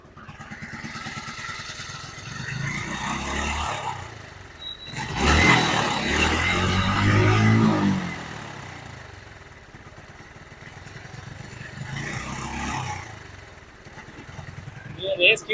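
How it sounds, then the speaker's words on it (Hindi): A TVS motorcycle engine sputters and stumbles while revved in gear, surging loudly mid-clip then dropping toward a near-stall, with an uneven, misfiring burble and someone talking over parts of it. "दुख दुख दुख दुख करके ये बाइक बंद होने जैसा करता रहता है।"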